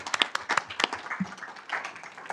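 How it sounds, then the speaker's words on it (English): A small council meeting audience claps for city employees with a sparse, uneven smattering of individual hand claps, fairly quiet and thinning out toward the end. "let's give all of our employees a round of applause for the great job they do"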